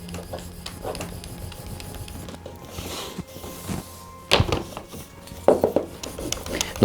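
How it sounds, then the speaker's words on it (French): Edge creaser rubbed along a leather belt strap, giving soft scraping strokes close up, faint at first and then a few sharper rasping passes, with no talking. "Donc je prends mon formoir, donc là je vais décider de la taille à laquelle je veux faire mon filet décoratif."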